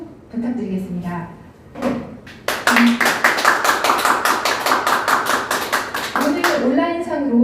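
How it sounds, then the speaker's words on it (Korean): Applause from the audience at the close of a women's party members' education session on housing in the COVID era: a dense burst of clapping lasting a few seconds, with speech before and after it. "뜨거운 박수 부탁드리겠습니다"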